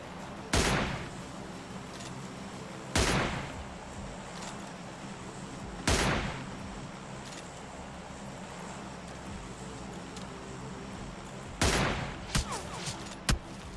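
Gunfire in PUBG Lite: five loud, single booming shots spaced a few seconds apart, followed by a quick cluster of smaller cracks near the end, with no talking.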